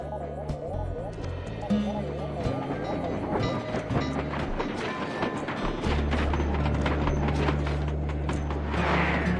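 A train passing in the video game Sly 2, a steady rumbling clatter with rhythmic clacking layered under game music and a character speaking.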